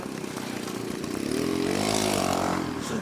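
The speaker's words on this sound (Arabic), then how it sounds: "خلي تعدى حس الموتور" A motorcycle engine passes by on a street in Sfax, its pitch climbing as it revs and nears, then settling back, moderately loud over constant traffic noise.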